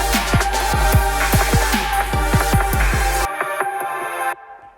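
Melodic GarageBand Apple loop with plucked, rhythmic notes and a steady low bass that cuts off abruptly near the end, leaving a faint tail, with no talking.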